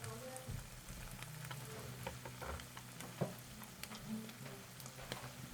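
Breakfast fries quietly in a pan, a faint steady sizzle and crackle with soft scattered pops and a few clinks of handling throughout.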